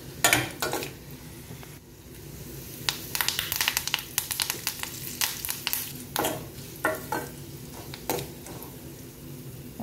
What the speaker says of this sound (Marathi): लसूण लालसर झाला की आपल्याला त्यामध्ये कढीपत्ता घालायचा आहे